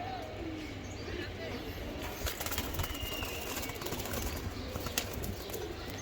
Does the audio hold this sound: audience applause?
no